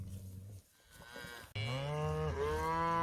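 Cows and calves moo loudly at a ranch, with a long low moo near the start and then a drawn-out, higher bellow that swells and holds close by.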